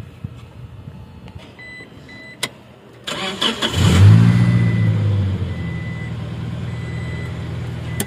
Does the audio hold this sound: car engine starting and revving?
yes